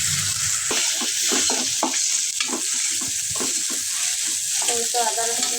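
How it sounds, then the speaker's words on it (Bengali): Ginger and garlic fry in hot oil for a meat and potato curry, giving a steady close sizzle broken by frequent scraping and clinking stir strokes, with no talking. "আদা রসুন ভালোভাবে ভাজে নিচ্ছি"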